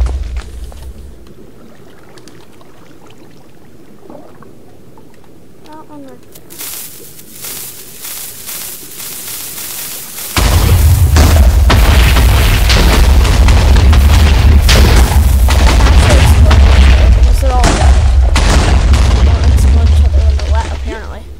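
Minecraft TNT blasts tear apart a towering glass structure: quiet scattered crackles at first, then a sudden switch to a loud, continuous rumbling barrage of overlapping explosions that lasts to the end.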